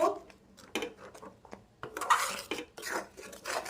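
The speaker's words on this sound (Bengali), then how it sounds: "এবারে নাড়িয়ে দেব" Pot and utensil clatter while stirring a Punjabi-style fenugreek-leaf yogurt curry thickened with gram flour, with light metallic scrapes and knocks coming in irregular bursts, close and fairly quiet.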